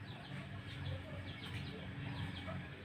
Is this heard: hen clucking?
yes